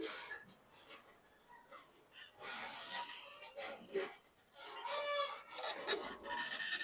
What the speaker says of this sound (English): Let's see if that's going to scrape off.